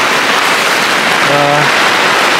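Rain and strong, constant wind roar loud and close on a mountainside during a climb of Mount Sumbing in fog, a dense unbroken wash with a brief tonal whine in the middle.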